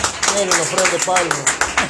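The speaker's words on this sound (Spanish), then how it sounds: "Den un aplauso al Señor ahí en esta hora." A church congregation claps for God during a service, a steady rhythmic burst of many hands that fills the room, with voices singing or calling over it.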